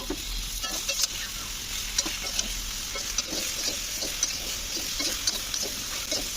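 Prawns, potatoes, onion and parwal fry with chili powder and salt in a pan, giving a steady close sizzle broken by soft scraping stirs at a regular pace.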